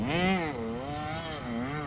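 Motocross bike engine, a 65 or 85 class machine, held high in its power band while cornering, a loud buzzing two-stroke wail with pitch wavering up and down as the throttle is worked.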